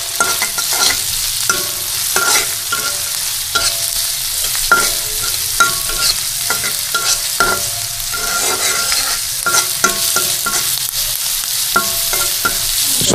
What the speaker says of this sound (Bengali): বাগার দেওয়ার জন্য পেঁয়াজ ভাজা হইতেছে, আর অন্যান্য মশলা টশলা সব কিছু দিয়ে এখন বাগার দেওয়া হবে।